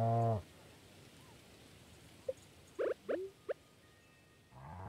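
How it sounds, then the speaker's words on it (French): Cows on a Stardew Valley video game farm give a few short, quiet moos in quick succession, set against soft game ambience with musical tones at the start and end. "Faut pas attendre que les vaches soient adultes pour pouvoir être"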